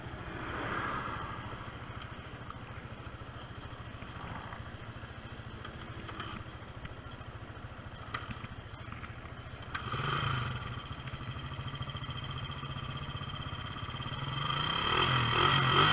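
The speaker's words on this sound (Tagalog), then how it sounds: "Okay naman pala yung motor ni Kuya, kala ko kanina mamatay." A motorcycle engine idles steadily with a low, even mechanical rumble that holds throughout, rising slightly in level toward the end, moderately close.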